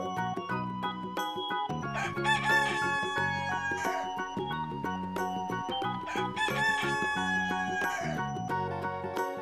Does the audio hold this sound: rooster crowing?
yes